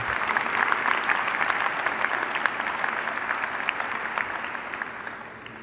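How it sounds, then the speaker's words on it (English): Commencement crowd applauding the university chancellor, a broad wash of many hands clapping steadily from a large audience that eases slightly as it fades out. "How about let's give Chancellor Lee a big round of applause"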